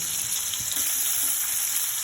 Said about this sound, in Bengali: পেঁয়াজটা একটু নেড়ে চেড়ে লাল করে তারপরে মশলা দিয়ে দিব